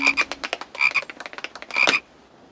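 A cartoon frog croaks in a quick run of bright, rhythmic ribbits, close and loud, before falling silent.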